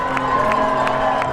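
Boston Marathon spectators cheering, a steady dense roar of crowd noise with rising whoops, loud and close throughout without a break.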